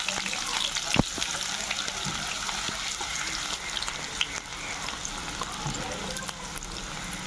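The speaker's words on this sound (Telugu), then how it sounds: "మనకి లివర్ కర్రీకి అయితే ఫస్ట్ ఉల్లిపాయ పచ్చిమిరపకాయలు అయితే వేసేసుకుంటున్నామండి" Onions and green chillies fry for a mutton liver curry, giving a broad, continuous hissing sizzle with an occasional sharp clink of a utensil, heard under a voice speaking.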